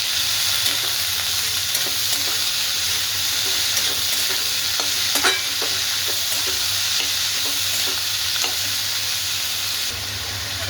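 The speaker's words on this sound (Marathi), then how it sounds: "आता आपण हा घेवडा पूर्ण टाकून घेऊया आता आपण हलवून घेऊया" Green ghevda beans sizzle steadily in a hot pan while being stirred, a dense continuous frying hiss with small scrapes and pops throughout, close and fairly loud, with no talking.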